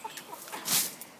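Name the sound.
pet chicken clucking on a chicken farm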